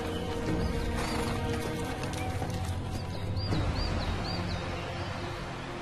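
A horse being ridden through a nature reserve, its hooves clip-clopping steadily over the ground amid outdoor ambience, with a short whinny and faint birdsong partway through.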